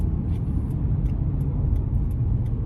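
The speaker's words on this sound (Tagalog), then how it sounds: "Traffic." Steady low road rumble of traffic with a car passing close by, continuous and fairly loud throughout, a few faint clicks above it.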